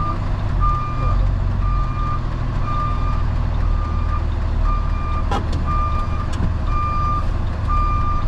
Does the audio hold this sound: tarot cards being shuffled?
no